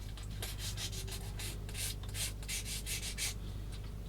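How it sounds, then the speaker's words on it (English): A sanding stick scrubs the plastic parts of a 1/16 Takom US Jeep model kit in a steady run of quick back-and-forth strokes, close and quiet, with no talking. "Now I'm going to get this sanding stick"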